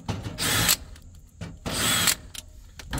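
Power drill backing out the four screws holding a gas valve on a home furnace: two strong whirring bursts of about a third of a second each, close and loud, separated by quieter clicks and handling noise.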